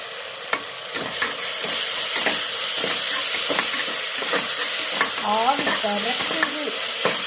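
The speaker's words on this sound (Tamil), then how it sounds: "இஞ்சி பூண்டு போடுறேன்." Ginger and garlic stirred and frying in a hot pan while cooking country chicken biryani, a steady close sizzle with repeated scraping stir strokes throughout, no talk.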